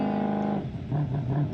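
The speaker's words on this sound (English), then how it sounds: "This car may be a little bit loud, so I'm sorry if you can't hear me right now." Modded gravel rally car in BeamNG.drive, its engine droning at a steady pitch, then dropping and pulsing lower as the revs change, close and fairly loud.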